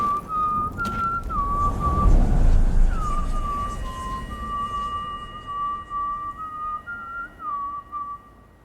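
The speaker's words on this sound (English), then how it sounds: "He thanked me and walked off screen, whistling and playfully tossing Olgierd's skull in the air" A man whistles a wavering, lilting tune in The Witcher 3: Hearts of Stone, steady and fairly close over a low ambient game background, with a brief swell of rumble partway through.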